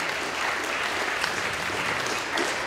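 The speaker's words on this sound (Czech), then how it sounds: "tleskáme ostatní" Audience applause at a live conference talk for volunteers called up on stage: dense, steady clapping from a crowd, loud and sustained throughout with no break.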